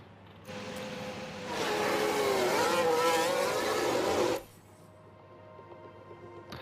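Formula 1 cars leave the pits during qualifying in the F1 Manager 22 video game, a broadening engine whine rising in pitch and swelling for a few seconds before cutting off abruptly to a low hum.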